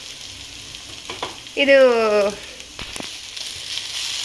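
Grated coconut sizzles in a hot tempering in a home kitchen, a brief loud frying burst in the middle with stirring, while a voice speaks softly before and after.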